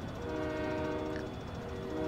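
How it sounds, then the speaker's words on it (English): Long train hauled by three locomotives in Farming Simulator 17, a steady loud rumble with a sustained horn-like drone running throughout, no talk. "But look at the length of the train."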